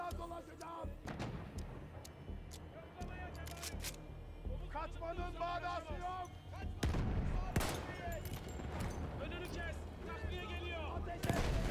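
Explosions and bursts of gunfire in the World War I shooter Battlefield 1, sharp booms cutting through a busy battle soundscape while a player talks throughout.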